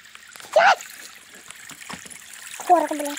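Short water splashes in the Roblox video game, two quick bright bursts about two seconds apart over a low background hum.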